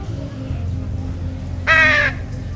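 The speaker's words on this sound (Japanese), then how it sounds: "カラスの鳴き声。" Crows cawing in a video game, a short loud burst of harsh caws standing out over a low ambient background with no speech.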